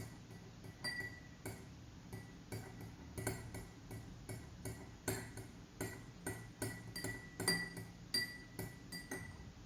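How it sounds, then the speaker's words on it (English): Spoon stirring rice in a glass of water, giving repeated light clinks and ticks against the glass in an uneven rhythm, close and fairly quiet with no talk. "Now we stir the rice in glass C."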